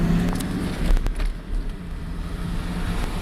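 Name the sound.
2001 Ford Mustang 3.8 engine misfiring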